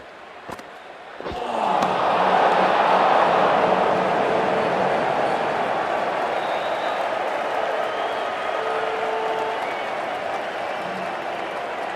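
Cricket stadium crowd during a Bangladesh versus Australia one-day international, a loud sustained roar of cheering and applause rising after a sharp opening knock and holding steady throughout.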